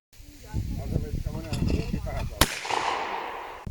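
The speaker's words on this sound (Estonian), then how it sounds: "nüüd, kui sa oled sihid märgi ära, siis lase" A single sharp rifle shot cracks out at a hunting camp on Hiiumaa, following an instructor's spoken guidance, and leaves a brief decaying rumble.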